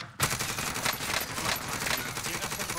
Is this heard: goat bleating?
no